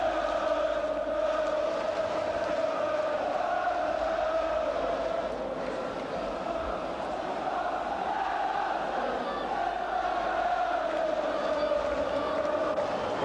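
A large Liverpool football crowd on Anfield's Kop applauds and roars after a goal against Tottenham Hotspur, a sustained, distant wash of clapping and cheering that holds steady throughout.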